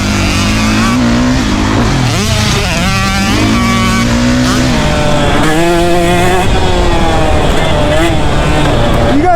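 KTM 150 SX two-stroke dirt bike riding, its engine loud and close, revving up and down in rising and falling pitch sweeps while a person talks over it.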